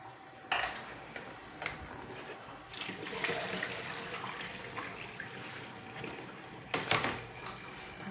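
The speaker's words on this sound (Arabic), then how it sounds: "شفتوها باش كتسقطر ليا من هذاك الماء مزيان" Water trickles and drips steadily into a bathtub, a continuous wet patter with a few louder splashes and knocks, close by with no talking.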